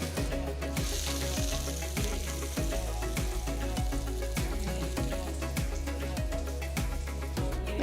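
Butter melting on a wide tawa for tawa pulao crackles with a loud, busy sizzle, a rapid patter of spitting pops over a steady hiss, mixed with heavy street-kitchen noise.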